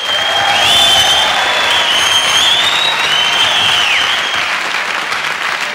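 A live 1977 rock concert audience applauds a band member, a dense, loud, sustained crowd clapping with scattered whistles and cheers.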